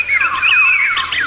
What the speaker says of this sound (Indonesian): Semua burung di rumah kita bernyanyi riang gembira.